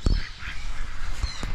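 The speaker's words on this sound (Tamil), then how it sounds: "நார்மல் வாத்து பார்த்துருக்கீங்க, மயில் வாத்து பார்த்துருக்கீங்களா?" A peacock-neck duck at Fundera bird park on Yelagiri Hill gives a few short, fairly close calls, with brief thumping noises at the start and near the end.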